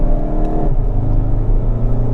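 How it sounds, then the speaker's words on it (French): Skoda Octavia RS diesel estate doing a launch-control start, its engine revving hard and loud with a rising, blowing exhaust note, apparently with the silencer removed, close and continuous with no talk. "ça souffle, hein, avec suppression de silencieux et tout, t'entends"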